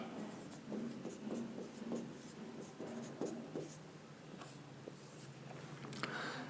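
Pen scratching out an equation on paper for a class 7 maths problem, a steady run of close, soft strokes and taps repeating through the whole stretch with no talk over it.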